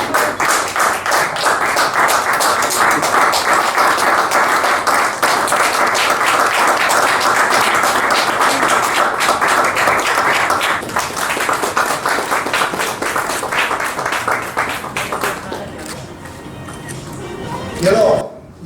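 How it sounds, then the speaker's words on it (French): Audience applause at a restaurant award ceremony, dense and sustained clapping for about fifteen seconds before thinning out, with a voice briefly heard at the end. "on accueille le restaurateur à mes côtés, sous vos applaudissements"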